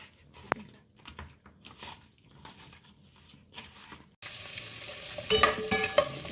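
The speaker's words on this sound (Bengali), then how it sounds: "খানিকক্ষণ ভাজা ভাজা হয়ে যাওয়ার পরে" Chicken marinated in ginger-garlic paste, lemon and salt frying in a pan. It is quiet with a few faint clicks at first, then a loud, steady hiss of sizzling oil takes over near the end.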